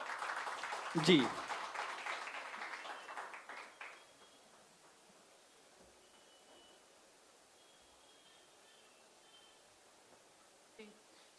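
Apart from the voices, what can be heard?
audience applause at an Urdu mushaira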